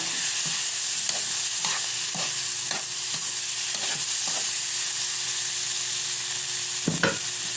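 Shrimp sautéing in a pan for misua with patola, a steady bright sizzle under regular tapping and scraping stirs of a utensil, close and continuous.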